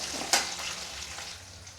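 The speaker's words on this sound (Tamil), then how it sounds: "வெங்காயம் பூண்டுலாம் வதங்கிட்டுருக்கு" Onions and garlic sautéing in a pan, a soft steady sizzle opened by one sharp spatula tap.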